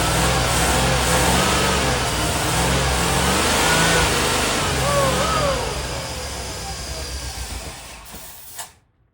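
A 49-year-old Ford Thunderbird with a big block V8 rumbles loudly up close, revving and fluctuating before the engine note fades and cuts out near the end.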